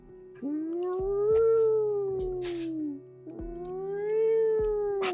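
A cat yowls in two long, drawn-out wails that slide up and then fall, as a sound effect in a tabletop role-playing game. The cries are loud and near, with a brief hiss or rustle between them.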